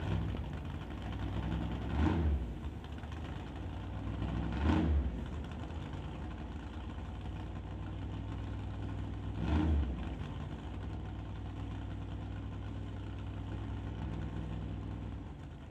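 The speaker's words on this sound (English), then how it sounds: "Dan Rodrigue purging some of the nitrous in the Malibu as he now rolls forward" A Chevrolet Malibu drag car at a drag strip idles with a low rumbling engine, broken by three short hissing bursts of nitrous being purged, heard from a moderate distance.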